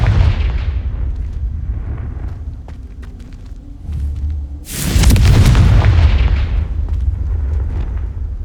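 Confringo blasting curse from Hogwarts Legacy, a loud booming explosion with a heavy rumbling tail after quieter game ambience and small cracks.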